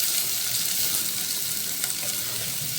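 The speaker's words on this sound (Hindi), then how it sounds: "अब मैं डालूँगी इसमें प्याज जो मैंने काटी थी" Chopped onions tossed into a hot pan and frying, a dense, steady crackling sizzle close by and loud throughout, with no talking.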